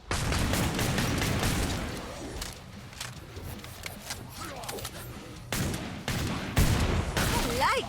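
Dense in-game gunfire from Killing Floor 2, rapid bursts and shots stacking into a constant barrage that eases mid-clip and then swells again, with voices and game effects mixed in.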